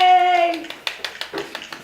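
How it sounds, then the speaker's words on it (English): A few hand claps, about five sharp separate slaps in an uneven rhythm, following a short stretch of a sustained voice tone. "Clap!"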